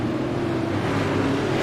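A late model race car's engine roars steadily as it accelerates, a loud sustained drone with a low tonal hum and no pauses.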